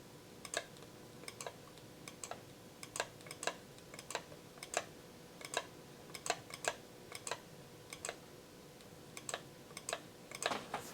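Keys on a computer keyboard are tapped in a steady, unhurried rhythm of distinct clicks over a faint hum, close and quiet with no voices.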